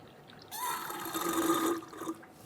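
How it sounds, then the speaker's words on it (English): A siphon tool draws old brake fluid out of the master cylinder of a Buick Encore during a rear brake caliper job, giving a soft gurgling, slurping liquid sound that runs steadily for under two seconds. "use a tool like this to siphon out the old fluid out of the master cylinder"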